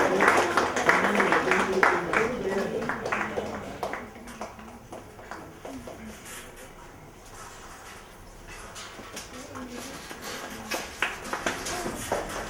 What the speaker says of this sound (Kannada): ಚಪ್ಪಾಳೆಯ ಮೂಲಕ ಅವರನ್ನು ವೇದಿಕೆಗೆ ಸ್ವಾಗತಿಸೋಣ.